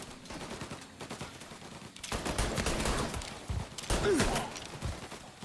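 Gunfire in Mafia: Definitive Edition: after a quieter opening, a sustained stretch of loud, dense shots and bursts fills the second half, rising and falling in overlapping volleys with no clear talking.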